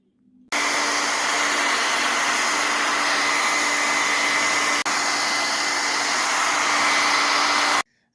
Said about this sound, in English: the blow dryer really speeds up the process